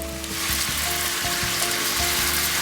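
Chicken liver and pork cook in a pan, sizzling loudly and continuously close up, with repeated scraping knocks from stirring scattered through.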